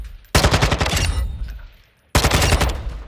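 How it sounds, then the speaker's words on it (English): Automatic gunfire on a firing range in Call of Duty: Modern Warfare II: a loud sustained burst of rapid shots, a brief lull, then a second loud burst, with no talking. "So if I shoot here"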